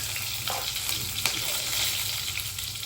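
Dried red chillies and curry leaves sizzle steadily in hot oil for a dal fry, a dense continuous crackle with a few sharper pops, close and loud with no talk.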